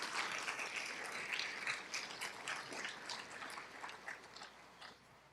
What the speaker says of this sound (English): Let's give them a round of applause, and they can applause themselves.